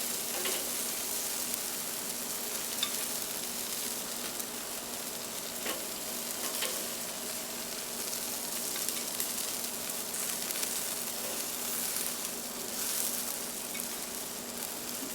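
Glazed peach pepper chicken wings sizzling and bubbling in a pan, a continuous close crackling hiss with scattered pops throughout, no voices.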